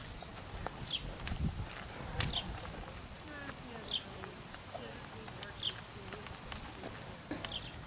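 Hootie, a former racehorse, walking slowly at a horse camp, soft scattered hoof clops over faint outdoor ambience, with occasional chirps and quiet voices.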